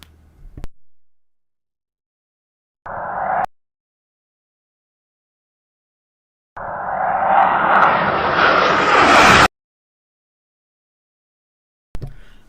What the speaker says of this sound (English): some Su-25 flankers flying at low level to avoid incoming ground fire and manpads